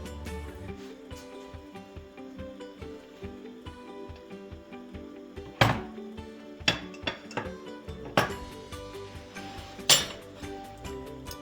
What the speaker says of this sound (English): now you're going to add the slightly larger pan over top.